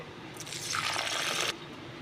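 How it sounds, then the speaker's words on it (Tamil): Water is poured over lentils in a bowl to rinse them while cooking adai batter. It makes a steady splashing pour of a little over a second that starts and stops cleanly, heard up close and alone. "இது தண்ணி ஊற்றி நல்லா கழுவிடுங்க"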